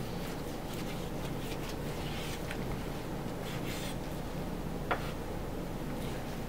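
A knife works through a boneless beef chuck roll in faint, soft scraping strokes over low background hiss, with one brief tap near the end.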